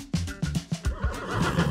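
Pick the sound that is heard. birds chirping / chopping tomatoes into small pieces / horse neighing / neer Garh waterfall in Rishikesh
horse neighing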